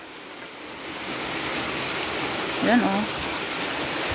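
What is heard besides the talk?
heavy rain pouring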